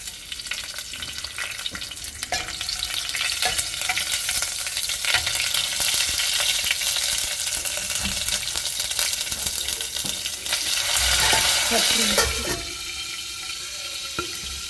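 Green chillies and spices sputter and crackle loudly in hot oil for Indian beetroot rasam, a dense continuous sizzle that surges near the end before easing off.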